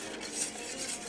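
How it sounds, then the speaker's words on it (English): Swerve sweetener spooned into water in a pan, brief light clinks and scraping of a spoon against the pan, close and quiet, with no talking. "I'm just going to add my sugar to this"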